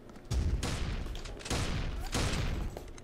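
Bursts of gunfire in the blocky shooter Blockstorm, several rapid volleys in quick succession at close range, loud and crackling, with no talking over them.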